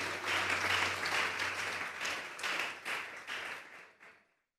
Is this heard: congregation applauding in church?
yes